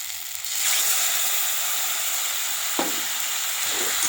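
Ginger, mustard and garlic spice paste with turmeric, chilli and cumin powder frying with potatoes in a pan, a loud continuous close sizzle that swells after a quieter start, with one brief scrape near the end.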